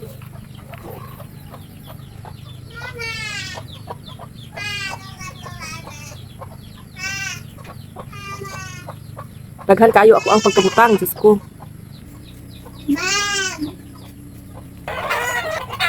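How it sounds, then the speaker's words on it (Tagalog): Chickens cluck and a rooster crows repeatedly at a rural home, the crows rising in loud bursts over steady background noise while someone speaks briefly in between. "So kay saba man kay mong manok no."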